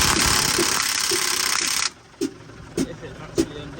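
A cordless impact wrench on a Scania truck's front wheel nut whirs loudly and steadily for about two seconds, then stops and fires three short, separate hammering bursts, close by.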